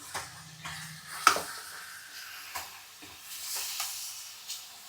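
Chicken curry is stirred in a pan with masala paste, giving soft scraping strokes and light clinks over a faint sizzle, spaced out and close by.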